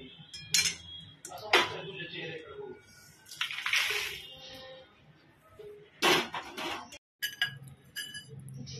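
Roasted ingredients being scraped from a pan onto a plate, with clinks of a metal spoon on the cookware and brief scraping strokes, close and intermittent, with a person speaking between the sounds.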